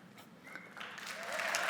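A live talk audience breaks into applause that starts faint and swells over the short span, steady dense clapping from a room full of listeners.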